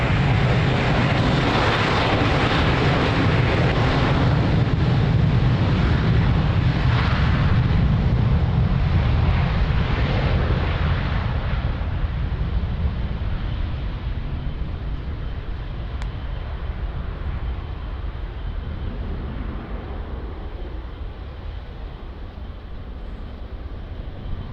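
An airliner takes off from runway 02 at Lisbon Airport with a loud, sustained jet engine roar that gradually fades as it climbs away.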